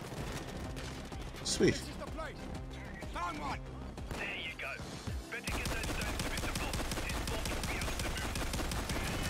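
Gunfire in the Payday 2 Reservoir Dogs heist: people talk over scattered shots, then a dense, continuous barrage of loud gunfire fills the second half.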